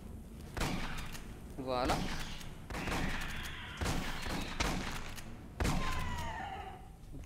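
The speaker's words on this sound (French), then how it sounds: "On peut utiliser le fusil à pompe." Pump shotgun blasts from the sci-fi shooter Aliens Colonial Marines, several sharp bursts spaced through the stretch amid game effects, with a voice speaking briefly.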